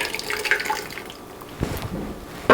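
Liquid pours into a pot of tortilla soup with a brief, soft, close splashing and trickling.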